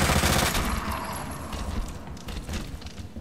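Rapid automatic gunfire from Resident Evil 2 Remake, a dense, loud burst of shots fading slightly then continuing in bursts.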